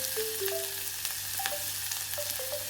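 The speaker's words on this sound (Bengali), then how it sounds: "এই অলিভ অয়েলের মধ্যে আমি দিয়ে দিচ্ছি পেঁয়াজ কুচি।" Chopped onions fry in olive oil with a steady, close hiss and crackle, cooking for a rui fish and pointed-gourd peel mash, while faint tonal sounds drift in the background.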